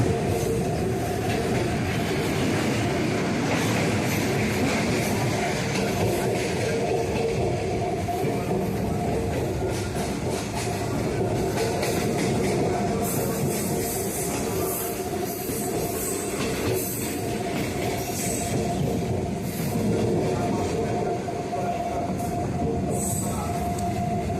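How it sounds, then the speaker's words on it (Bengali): A local train on the Dum Dum Cantonment to Sealdah line crosses Maniktala bridge, with a loud, continuous rumble from inside the carriage, rhythmic wheel clatter and occasional high squeals. "আমাদের ট্রেন ক্রস করছে মানিকতলা ব্রিজের উপর দিকে।"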